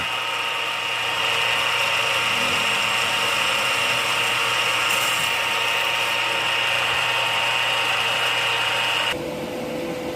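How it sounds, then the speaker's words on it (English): A steady, loud mechanical whine of a power drill running continuously for several seconds, then cutting off near the end. "Drilling."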